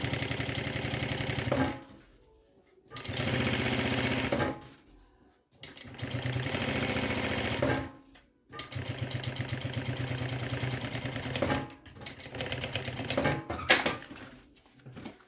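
A sewing machine topstitches the seam on the main fabric of a zippered bag, running in several rapid mechanical bursts separated by short pauses, close and clear.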